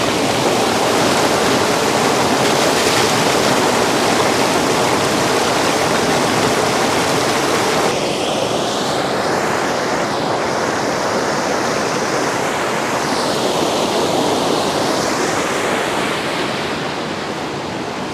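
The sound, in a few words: fast-flowing river rapids at Koitelinkoski, Koiteli River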